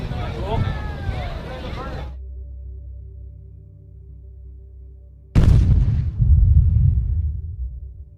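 Landmine explosion at a war show: a sudden loud, deep boom breaks in after a quiet stretch and rumbles on heavily, following earlier crowd noise and chatter.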